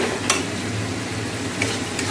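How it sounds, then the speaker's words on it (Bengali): Spice masala is stir-fried in a pan with a loud, continuous sizzling hiss close by and a couple of brief clinks from a utensil, with nobody speaking. "আর এদিকে মশলাটা কষে নিচ্ছি"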